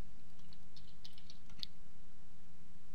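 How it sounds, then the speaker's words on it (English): Rapid keystrokes on a computer keyboard as an email address and password are entered at a login screen, a brief patter of close, light clicks over a steady hum. "And then if we type in our email address"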